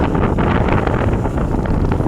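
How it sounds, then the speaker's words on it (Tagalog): Strong wind buffets the microphone outdoors among open farm fields, a loud, steady rushing roar that never lets up. "Nalakas ang hangin."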